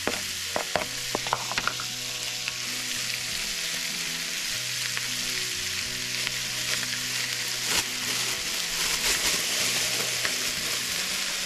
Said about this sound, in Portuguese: aqui o bacon calabresa não precisa fritar muito, só vai dar uma douradinha